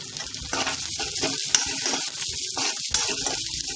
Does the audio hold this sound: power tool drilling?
no